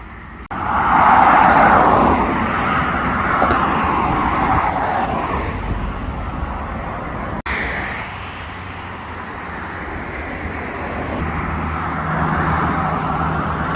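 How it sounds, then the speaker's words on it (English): Alexander Dennis Enviro double-decker bus in road traffic, a broad rumbling road roar that swells loud early, eases off, and stays as steady traffic noise. "Alexander Dennis Environmental Model, double decker bus, I believe."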